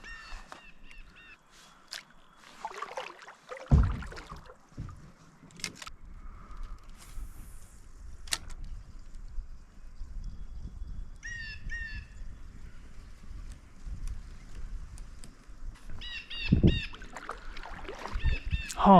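A paddle strokes through the water as a small boat crosses a remote pond, with faint dips and splashes, quiet gaps and occasional birdsong around it.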